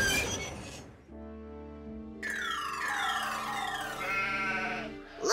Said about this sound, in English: Looks like the sheep want to graze on the tracks today.